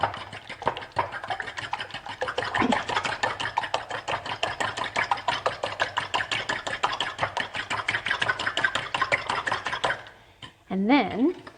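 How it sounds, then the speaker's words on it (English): Eggs are whisked with a fork in a bowl, producing rapid, even clinking and tapping strokes up close for about ten seconds before stopping, followed by a short burst of voice. "All right, so let's whisk that up."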